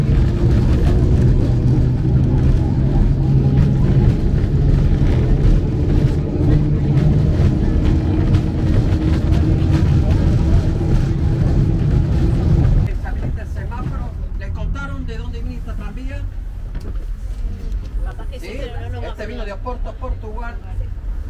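A nearly century-old historic tram running through Buenos Aires, its loud, steady rumble and rattle filling the first part before easing to a lighter clatter, with voices talking during the later part.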